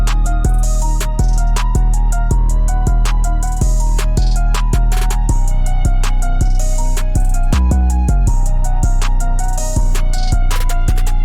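A simplified 808 bass pattern from an FL Studio hard trap beat plays solo, with deep booming bass hits in a bouncing rhythm under crisp, rapid hi-hat ticks, loud and continuous.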